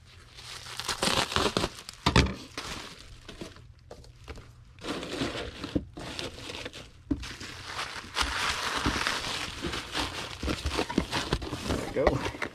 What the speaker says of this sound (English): we get a sheet of bubble wrap